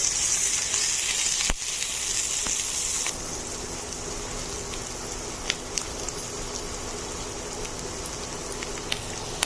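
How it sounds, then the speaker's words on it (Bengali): Onion with green chillies frying in a pan toward light brown, a steady crackling sizzle with scattered pops, louder at first and then settling to a slightly quieter sizzle, close with no voices. "পেঁয়াজটা আমি একটু হালকা ব্রাউন করে ভেজে নেব।"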